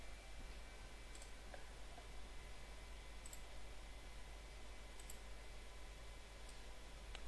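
A handful of soft, widely spaced computer mouse clicks, about four, sound faintly against a steady low hum during disk management on a Windows Server 2008 machine.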